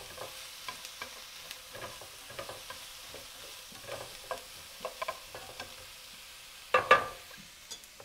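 Chopped vegetables frying in a pan for homemade tomato sauce, with faint sizzling under repeated soft taps and scrapes of stirring, then a louder burst of sizzle near the end.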